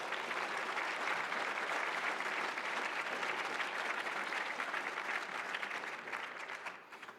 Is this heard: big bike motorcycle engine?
no